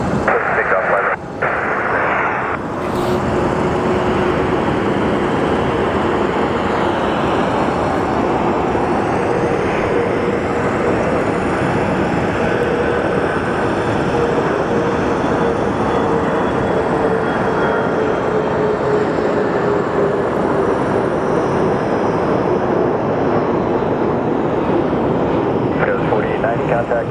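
A plane takes off from a runway at Phoenix Sky Harbor airport, a loud sustained roar of jet engines building and rumbling throughout, with a brief radio voice near the start.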